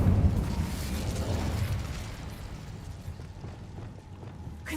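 A fire spell bursts in a fantasy video game, one loud whooshing, rumbling blast at the start that rolls off into a fading crackling roar.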